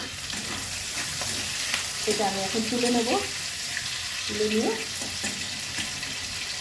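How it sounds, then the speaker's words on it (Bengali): Shrimp fry in a pan with a steady, close sizzle and occasional stirring scrapes. Someone speaks briefly over the cooking sounds. "চিংড়ি মাছ অলরেডি বসিয়ে দিয়েছি, ভাজা হচ্ছে।"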